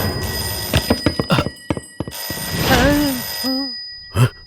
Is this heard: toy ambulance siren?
no